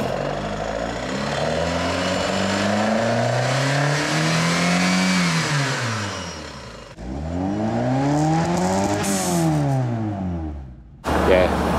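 Vauxhall engine fitted in a freshly rebuilt Mk2 Escort rally car, on Gen V throttle bodies, revved hard several times with long rising and falling sweeps, loud and close, ending in a short sharp blip.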